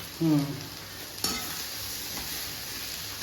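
Coriander and red chili being stirred in a cooking pan: a brief scrape of the spoon at the start and a sharp clink against the pan, over a steady soft sizzle, with no one talking.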